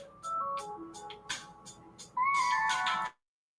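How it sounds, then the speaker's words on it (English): Phone ringtone for an incoming call: a rising then repeating electronic melody, a few bright tones followed by a louder sustained warbling burst, then silence, with no talking. "I got a call coming in."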